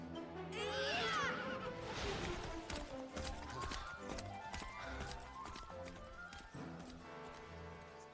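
Horse hooves clip-clopping at a gallop in Dragon Quest XI S, a steady rhythmic clatter running throughout beneath layered game music and effects, with a brief whinny-like cry near the start.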